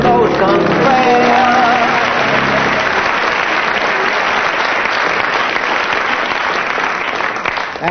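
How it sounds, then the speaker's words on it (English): A studio audience at a 1979 Christmas comedy panel show bursts into sustained, loud applause, with a voice briefly audible at the start before the clapping carries on alone. "from the audience's applause, you win that round"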